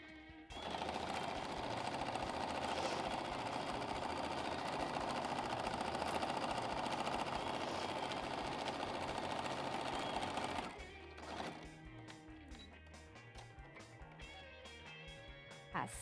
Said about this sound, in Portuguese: Vamos passar a costura aqui.